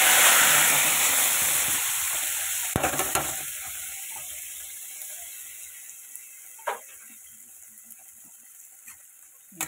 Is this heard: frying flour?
yes